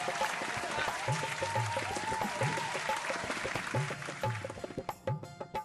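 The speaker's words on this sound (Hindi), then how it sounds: "तालियों के साथ स्वागत होना चाहिए सुनील जी का।" Audience applause welcoming the poet Sunil Jogi onto the stage at a Holi poetry event, a dense steady clapping that thins into scattered claps near the end.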